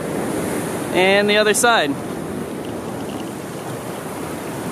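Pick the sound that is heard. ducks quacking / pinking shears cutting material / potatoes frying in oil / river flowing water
river flowing water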